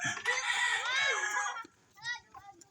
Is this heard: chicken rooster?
yes